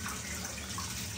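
Steady shower spray of water watering a dusty houseplant hisses continuously at close range, an even, unbroken rush with no voices.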